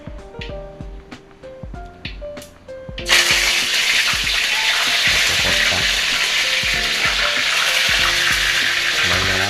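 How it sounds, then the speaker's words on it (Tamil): Curry leaves dropped into hot oil with mustard seeds: a few scattered crackles and clinks, then a sudden loud burst of dense sizzling and spattering that continues steadily, no voices. "கடுகே தீஞ்சிருச்சு. இப்போ கருவேப்பிலை போட வேண்டியது தான்."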